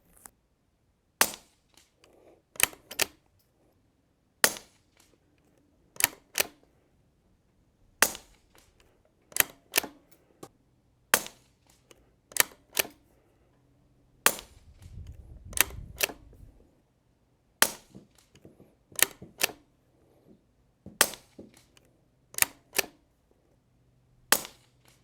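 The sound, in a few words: suppressed rifle shots from Anschutz 1727F with KGM suppressor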